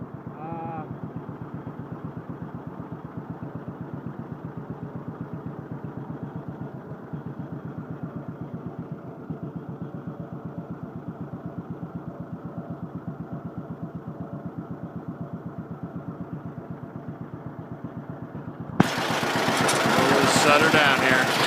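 A John Deere Model B tractor engine runs steadily at idle with a rhythmic, clattering mid-pitched chug, close and continuous, before a louder, brighter burst near the end.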